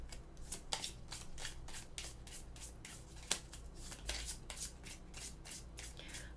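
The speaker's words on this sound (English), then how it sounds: "Shuffle the Savior cards from the Savior deck." Cards from a Savior deck are shuffled for a Final Girl board game, with quick rhythmic riffling and snapping bursts repeating close to the microphone and one sharper tap partway through.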